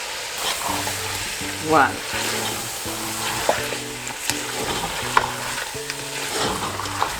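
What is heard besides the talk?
stirring onion into oxtail curry in pot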